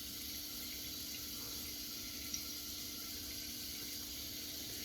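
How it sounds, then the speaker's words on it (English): Water runs steadily from a bathroom sink faucet, a faint, even hiss and trickle that holds unchanged throughout with nothing else over it. "I'm rinsing my washcloth off with this warm water that's coming out of the sink"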